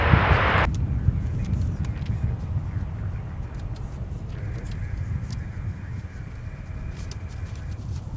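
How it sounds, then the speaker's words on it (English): A 20-year-old ex-Northwest Airbus A320 arriving at MSP airport from Detroit makes a steady, distant jet rumble that holds evenly throughout, broad and low without sharp peaks. "We have a ex-Northwest A320 now arriving."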